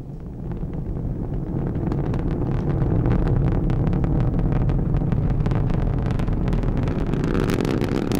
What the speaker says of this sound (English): Liftoff of an ILS Proton from the Baikonur Cosmodrome in Kazakhstan with the Intelsat 31 satellite on board.